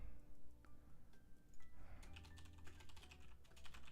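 Fast, rapid typing on a computer keyboard, a close, quiet clatter of keystrokes that grows busier and denser partway through, with no talking.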